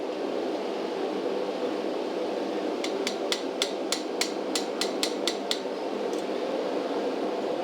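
A hammer gives about a dozen quick, sharp metallic taps in an even rhythm to bend hot forged rail spike forks, ringing out over a steady background hiss.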